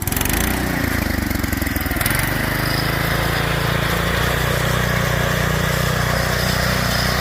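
A lawn tractor converted into a go kart and running on propane, its small engine droning loud and steady close by, with a brief shift in pitch early on before it settles into an even run.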